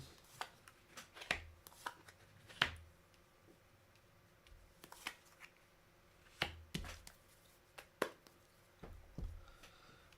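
Tarot cards being laid out one by one on a table, giving soft, sparse snaps and taps scattered across a quiet room, with no talking.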